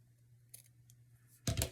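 Scissors snip through paper being trimmed for a journal page, giving a short, soft close cut after a few faint rustles in a quiet room.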